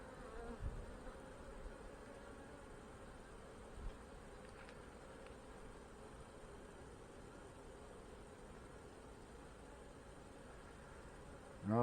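Honey bees swarm around an opened hive at a fireweed apiary, a dense steady buzz holding for the whole stretch with a few sharper close passes, then a brief knock at the very end.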